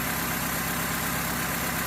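A 2001 Honda Civic LX engine idles in the open engine bay, a steady close mechanical hum and whir with fine ticking, unbroken and without talking.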